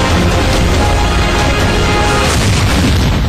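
Loud, continuous booming rumble with dense low-end roar, like a cinematic explosion sound effect, sustained without pause and no voices.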